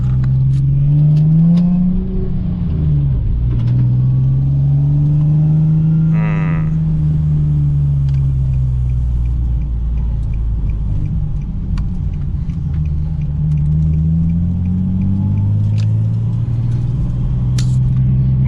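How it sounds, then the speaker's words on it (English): A Nissan 370Z on a test drive, its engine droning loud and near from inside the cabin, the pitch rising and falling through gear changes and acceleration over the full stretch, with no talking. "So we're gonna take it for a test drive."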